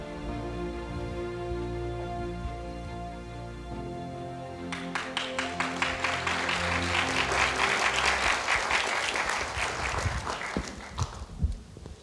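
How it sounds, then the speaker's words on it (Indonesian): Audience applause at an Indonesian election-themed broadcast event, swelling in after a sustained musical passage and building into a full, dense clapping roar that holds steady before tapering near the end. "Boleh kita beri aplaus sekali lagi untuk rekan Laninka, Alen, Jennifer, dan Mbak Putri"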